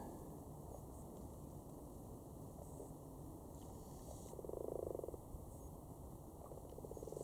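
Frogs mating in a cluster in a Cambridge garden pond at night give off a soft, continuous purring croak chorus, low and steady under faint background hiss.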